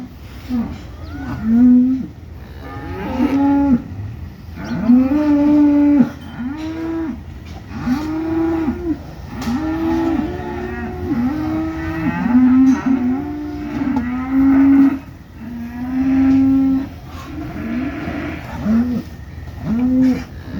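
Heifer calves on a cattle farm in Saudi Arabia moo again and again, loud drawn-out calls from several animals overlapping close by, with a few short pauses between them.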